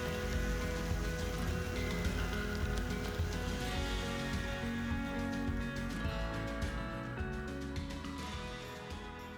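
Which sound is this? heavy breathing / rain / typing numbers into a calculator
rain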